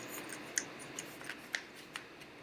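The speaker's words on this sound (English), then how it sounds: "Charlotte here is folding the paper into a grid of 3 columns." Paper being creased and folded into a grid of three columns by hand, with soft crisp snaps and rustles at irregular intervals, quiet and close, with no talk.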